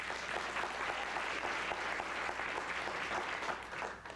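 Steady, dense applause from a studio audience at a live Nightline news telecast, sustained and fairly loud throughout with no break, easing slightly at the very end.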